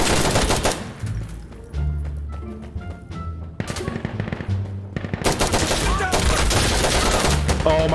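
Loud, rapid bursts of automatic gunfire and single shots from the video game Insurgency: Sandstorm, close and repeated across the clip, with brief pauses between volleys and occasional voices in the mix.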